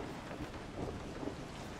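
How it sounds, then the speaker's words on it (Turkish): Steady hiss of rainfall in Resident Evil 7 Biohazard, soft and continuous, with faint low rumbling underneath and no voices. "Yağmur da çok güzel yağıyor."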